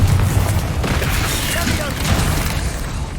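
Confringo blasting curses in Hogwarts Legacy go off as repeated booming blasts with crackling debris over a constant rumble of combat noise, loud and close, with spell-casting shouts mixed in.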